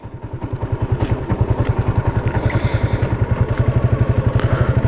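Motorcycle cruising along a road beside a canal on the Thai–Myanmar border near Kra Isthmus, Ranong, its engine pulsing in a steady, loud rhythmic throb close to the mic throughout.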